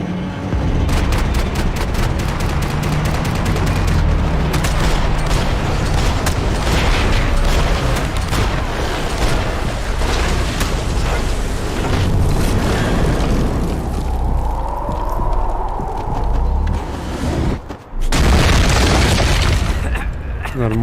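Gunfire in the video game Max Payne 3 bursts out in rapid cracks and heavy booms with explosion-like blasts, loud and dense, while character voices shout over the action.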